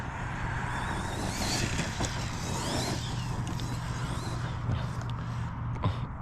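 Arrma Kraton 6S EXB RC car driving, a continuous motor whine with rising pitch sweeps as the throttle is eased on, heard at a distance over rough wind and ground noise.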